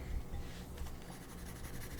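Colored pencil scratching across paper in a steady, soft, continuous rasp, close up and quiet, with no voices.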